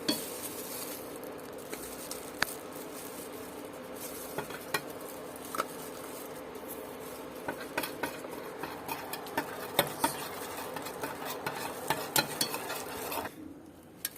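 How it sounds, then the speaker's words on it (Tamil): A homemade soap mixture with added oils stirred in a container, giving soft continuous swishing with scattered small clicks and taps of the utensil against the sides. "இது எல்லாத்தையுமே வந்து நல்லா மிக்ஸ் பண்ணியாச்சு."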